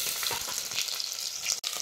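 Halved shallots fry in oil in a clay pot for a field bean gravy, making a dense, close sizzle with soft stirring scrapes and a brief break near the end, with no talking.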